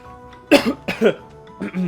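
A man coughs in three sharp bursts, close and loud, each rough and throaty, during a gaming commentary.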